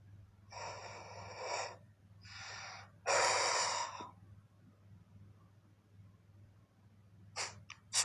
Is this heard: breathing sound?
yes